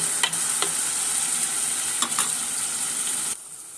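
Flour-coated fish frying in oil with onions and tomatoes gives a steady, loud close sizzle with a few brief stirring clicks, then the sizzle drops off sharply near the end.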